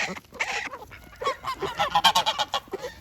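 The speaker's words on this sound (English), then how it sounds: "Here come the geese, boys." A flock of geese honking loudly and repeatedly, overlapping calls coming in bursts, fairly close.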